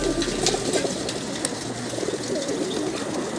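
Racing pigeons coo softly amid a busy outdoor murmur at a pigeon club release, low throaty calls repeating over steady background noise.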